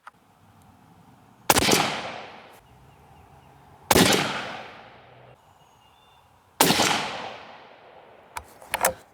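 Three loud, close rifle shots from a .243 firing 80-grain ammunition, each a sharp crack with a ringing decay, spaced a couple of seconds apart, followed by a few small metallic clicks.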